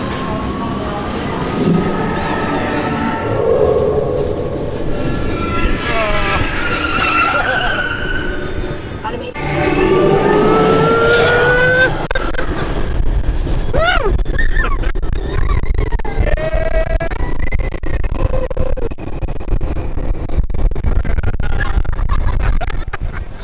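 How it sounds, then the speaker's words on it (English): The Test Track ride vehicle at Epcot speeds along its course, giving a sustained roar of motion with rising whines and squeals of wheels and motors throughout, loud and close, with riders' voices faintly mixed in. "Sweet ride on Test Track"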